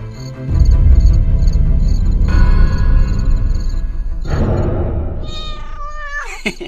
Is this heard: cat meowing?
yes